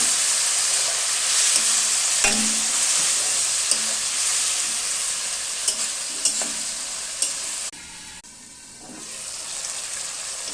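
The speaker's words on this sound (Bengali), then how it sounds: "মশলাগুলো ঠিক মতন ভাজা হয়ে গেছে, এখন তেল ছাড়ছে" Spices and tomatoes frying in oil, a continuous close sizzle punctuated by scraping stirs and occasional clinks of a spoon against the pan, quieting briefly near the end.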